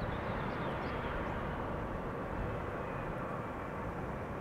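An Eastern Airways Embraer 170 comes in to land, heard as a steady, broad roar of engine and rushing air that holds at a constant, fairly distant level throughout.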